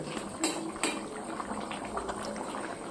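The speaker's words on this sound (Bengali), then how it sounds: "দেখেছেন কি সুন্দর ফুটতে শুরু করেছে একদম পুরো চিকেনটা।" Chicken and potatoes boil in a covered pot, a close steady bubbling and gurgling with a couple of sharp lid or utensil clinks near the start, continuous and without talk.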